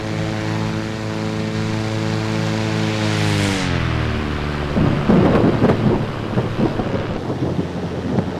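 A thunderstorm with rain is heard from inside a propeller aircraft, where a loud droning engine dips in pitch before crackling bursts of thunder and rain noise break through the hum.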